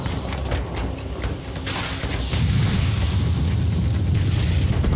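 A video game cannon shot explodes in a loud, broad boom, followed by a sustained rumbling blast with no speech.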